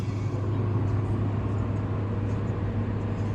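A 1991 Honda Civic EF cruising on the road, a steady low engine drone and road rumble with a constant hum, continuous and close from inside the cabin, no talking.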